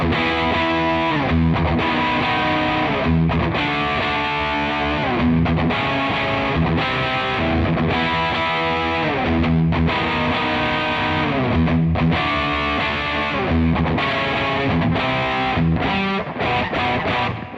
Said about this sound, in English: Really saturated, thick, fat sort of tone.